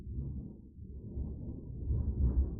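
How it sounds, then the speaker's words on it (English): Thunder from a storm over a lake rolls outside a window as a low, continuous rumble that swells toward the end, muffled and fairly quiet. "That's thunder right outside the window over the lake."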